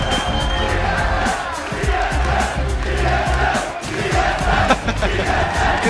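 A packed arena crowd at the 2013 Worlds esports group stage roars with sustained cheering and shouting. The dense wall of noise stays loud and steady for the whole stretch.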